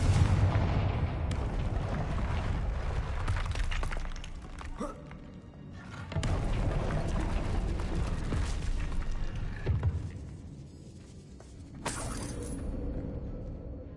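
Booming explosive blasts from the Confringo spell in the Hogwarts Legacy video game roar loudly and densely for long stretches, with brief lulls before further bursts.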